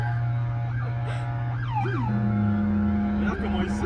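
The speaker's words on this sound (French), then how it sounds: "Vas-y, mets le klaxon." A wailing siren on a police Lamborghini sounds loud and close over a steady engine hum, with rising and falling tones sweeping up and down for several cycles.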